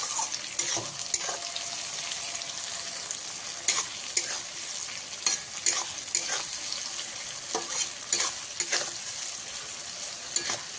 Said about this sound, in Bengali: পেঁয়াজ আর টমেটোটা আমি খুব ভালো করে ভেজে নিয়েছি।